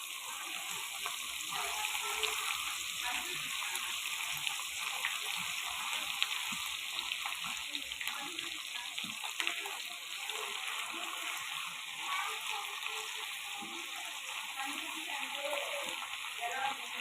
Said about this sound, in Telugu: చికెన్ వేపుకున్న ఆయిల్లోనే తాలింపు వేసుకుందాం. అల్లం పేస్ట్ నేను 50 గ్రామ్స్ వేసుకున్నా అండి.